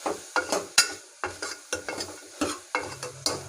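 Garam masala with onion and tomato frying in a pan, stirred in a steady rhythm: roughly a dozen sharp scraping strokes, each followed by a short sizzle, close and alone with no voices.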